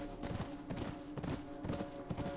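Horse hooves clip-clop steadily in The Last of Us, a brisk repeating gallop rhythm over a faint humming game background, fairly close and continuous throughout.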